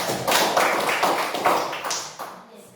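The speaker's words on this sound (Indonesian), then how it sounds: "Ya, tepuk tangan." Classroom applause after a group presentation: a short burst of many hands clapping together, steady at first and then thinning and fading out.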